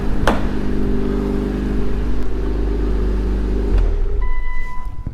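A car engine fitted with a new Ark GRiP exhaust revs loudly and steadily with a deep rumble for several seconds, then drops back to a lower idle near the end.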